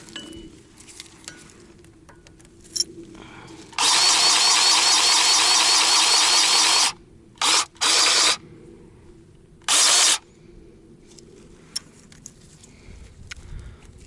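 A Dewalt DCGG571M1 20V cordless electric grease gun greasing a dozer blade: a sharp, loud motor whir runs for about three seconds, then two short bursts and one more brief burst, with quiet mechanical clicks between.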